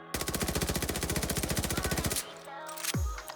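A gun fires in Call of Duty Vanguard during a Search and Destroy match, a loud rapid burst of about two seconds of evenly spaced shots, followed by a short mechanical clatter and a low thud.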